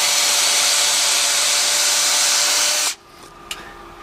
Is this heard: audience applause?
no